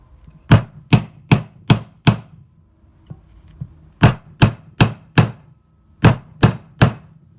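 Hammer blows driving a swingarm bearing race into the frame of a 1982 Harley-Davidson FLH, loud close metallic strikes in three quick bursts of four or five evenly spaced hits with short pauses between.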